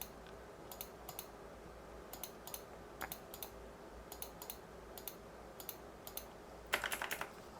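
Computer keyboard keys click in short, quiet clusters of two or three presses at a time while entering commands in ZWCAD, with a slightly louder burst near the end.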